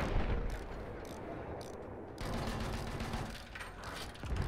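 Artillery fire in the World War II shooter Battlefield V, heavy low booms and rumbling blasts layered over mechanical clatter, steady and loud throughout with a fresh surge of explosions partway in.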